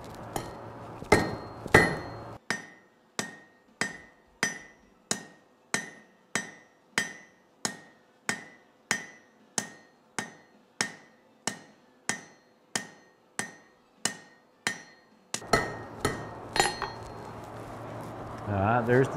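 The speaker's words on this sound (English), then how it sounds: "The part I'm fixing to hammer now will be the leaf tip, the tip of the leaf." Steady, evenly spaced hammer blows on hot steel against an anvil, forging a leaf tip, ring out, about twenty strikes in a row, with a few irregular clanks before and after.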